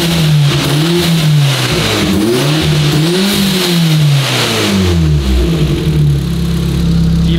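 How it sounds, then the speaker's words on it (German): A car engine revs hard in repeated throttle blips, pitch swooping up and down several times before settling back toward idle, loud and close. "jetzt gerade bei so ein paar Gasstößen"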